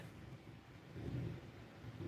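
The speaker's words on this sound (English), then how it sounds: "That was an awful loud beat thunder." Loud thunder rumbles as a low, continuous roll with rain noise behind it, swelling midway through before easing off.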